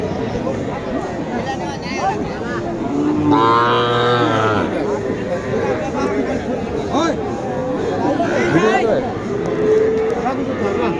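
A local breed calf moos loudly and nearby at a rural cattle market, one long drawn-out call standing out over steady crowd chatter and bargaining voices, with a fainter second moo later.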